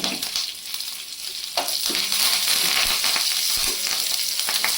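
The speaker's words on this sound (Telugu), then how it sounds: "కొంచెం పచ్చిమిరపకాయలు ఇవి కొంచెం వేగుతున్నాయి కదా" Green chillies frying in oil in a pan, a bright continuous sizzle with occasional stirring scrapes, close and fairly loud, no voices.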